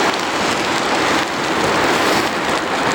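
Steady, loud rain pours down in Portland, Oregon during an ebike ride, a dense unbroken hiss of drops with no voices over it.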